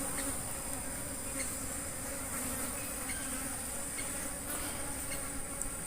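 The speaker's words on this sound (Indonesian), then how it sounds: "lebahnya kecil-kecil dan lebah jenis seperti ini bisa agresif" Many small Apis cerana bees buzz together at a bee farm in a dense, continuous drone, close by, with a high insect whine layered over a low hum.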